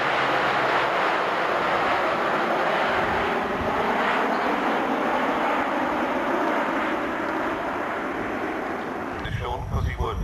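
Swiss Air Force aerobatic team jets fly at the Fairford airshow, a loud, sustained engine roar that swells and holds throughout while an announcer talks over it.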